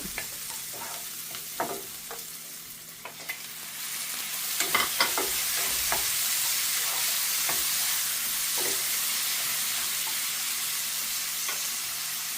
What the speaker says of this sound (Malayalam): എണ്ണയ്ക്കകത്ത് ഒന്ന് ചൂടായി വന്നിട്ട് നമുക്ക് തക്കാളി ചേർത്താൽ മതി